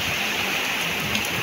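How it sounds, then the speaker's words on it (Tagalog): Heavy rain pouring down on an island, a dense, constant roaring hiss that fills the whole stretch at steady loudness, with no voices over it. "parang umusok, malakas kasi ng ulan"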